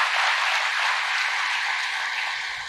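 Audience applause fills a hall during a spiritual class talk, a steady, dense wash of clapping that holds evenly throughout and fades slightly toward the end.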